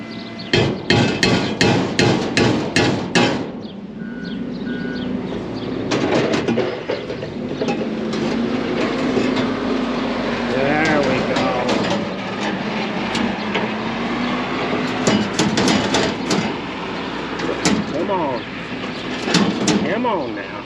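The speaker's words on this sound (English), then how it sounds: "You need a hammer?" Hammer blows against a bent metal silo part, a burst of sharp, rapid clanks at the start and more scattered strikes later, with someone talking over steady mechanical background noise.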